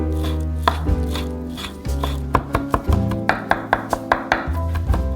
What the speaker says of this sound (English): chop them finely with a knife